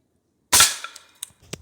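A .22 air rifle fires a Hornet pellet at a target in one sharp, loud crack, then a few faint clicks and rattles follow.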